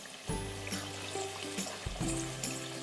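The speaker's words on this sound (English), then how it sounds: "then we add in our Worcestershire sauce" A quarter cup of Worcestershire sauce pours steadily into browned ground meat in a pot of three-meat chili, a continuous close trickle over a low background hum.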